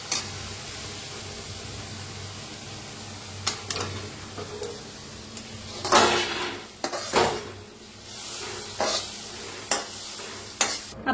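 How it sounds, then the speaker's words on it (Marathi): Roasted moth beans seasoned with garlic, salt and oil are scooped from a hot kadhai onto a plate, with repeated scraping stirs of a metal spoon against the pan and faint sizzling between strokes. "काढून घेऊया एका प्लेट आता।"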